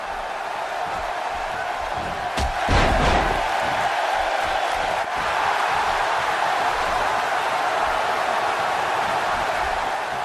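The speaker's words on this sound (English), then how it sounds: "the crowd are fired up for Zayn tonight" A wrestling arena crowd in the WWE 2K17 video game roars continuously, loud and dense, with a few sharp slam-like thuds partway through.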